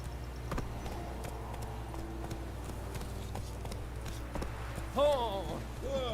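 Horse hooves clip-clop in The Witcher 3, a steady run of game hoofbeats beneath low background music, with a short whinny-like call near the end and a person talking over the game.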